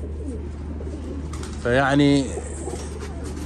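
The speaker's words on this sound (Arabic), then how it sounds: "هاي الطيور" Domestic pigeons, including imported breeds, give a single soft cooing call that stands out briefly over a low background hum, with someone speaking nearby.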